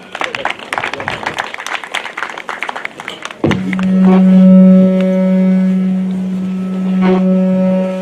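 A crowd claps steadily and densely at Alupe University's first graduation ceremony for a few seconds. The applause stops abruptly as a sustained musical tone takes over.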